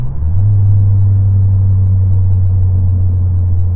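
A stage 3 tuned Volkswagen Polo 6R WRC rally car accelerates on a country road. After a quick rise, its engine holds a loud, steady, close-up droning rumble.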